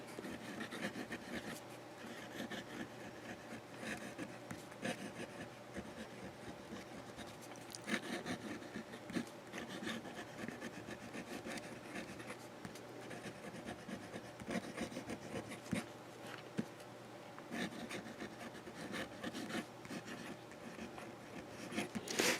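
Moonman Silver Spider fountain pen writes on paper with a reversed nib, giving a faint, continuous scratchy rubbing close to the microphone.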